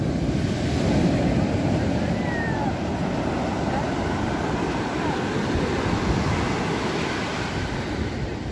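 Storm waves breaking on the Black Sea shore at Sunny Beach near Sveti Vlas, Bulgaria, a continuous loud roar of surf mixed with wind buffeting the microphone.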